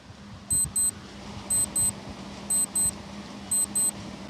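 A quiz countdown timer sounds high, crisp electronic beeps in pairs, one pair each second, repeating four times over a faint background hiss, with no voice.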